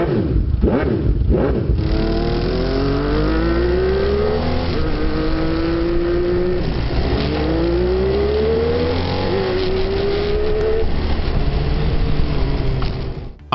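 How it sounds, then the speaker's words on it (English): A homemade motorcycle with three Weber carburetors roars loudly up close. Its engine climbs through repeated rising revs and gear changes in a sustained, throaty run with no voices. "And of course, the sound of a motorcycle."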